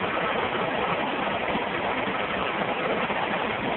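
A car AC compressor hums steadily with its clutch engaged, the condenser cooling fan whooshing over it in a constant, even, broadband drone with no talking.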